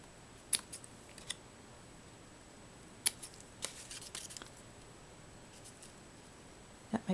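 Scissors snipping through ribbon during a Valentine's Day heart-in-jar craft, heard as a few sharp, quiet snips spread over several seconds in an otherwise quiet room.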